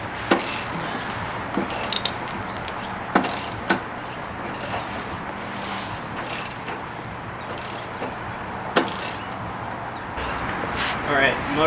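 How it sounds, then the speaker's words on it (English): A hand ratchet clicks in short, sharp bursts while undoing motor mount bolts on a C5 Corvette during subframe removal, repeated several times at close range with quiet pauses between strokes. "now we're going to start with undoing the 2 motor mount bolts and then the 4 subframe bolts"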